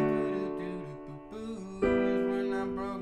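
A piano plays the chorus of a song, with sustained chords and a melody shifting through several chord changes, moderately loud and up close, with no voice.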